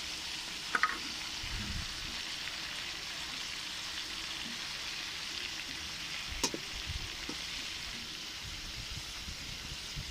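About a quarter kilo of tomatoes sizzles in a pan with ginger garlic paste for a boneless chicken karahi, a steady close frying hiss with a few soft stirring clicks and no talking.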